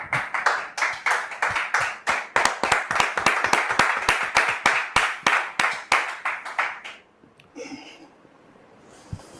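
A studio audience claps in quick rhythmic unison to welcome a pastor onto a French-language Christian talk show, steady loud beats for about seven seconds before fading into quiet room noise.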